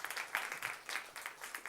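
Audience at a gender summit on women in STEM applauding after a talk, a soft, fairly distant patter of clapping that rises and dips in waves over the short stretch.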